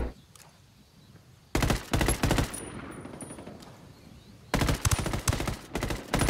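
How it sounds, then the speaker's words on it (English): Rapid automatic gunfire from a Ghost Recon Wildlands two-versus-four player match, coming in two loud, dense bursts of overlapping shots, the second longer than the first, with a quieter gap between them. "I'm gonna lay fire on him"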